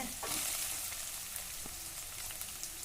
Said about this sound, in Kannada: ಸ್ವಲ್ಪ ಹುರಿತೀನಿ ಈರುಳ್ಳಿ ಹಾಕತ್ತೀನಿ